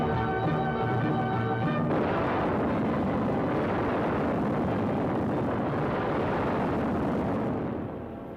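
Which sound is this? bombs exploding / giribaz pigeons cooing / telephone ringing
bombs exploding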